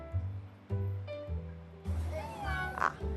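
A pedigree cat on a leash in a Hong Kong shop gives a few short meows amid voices talking nearby and general shop background.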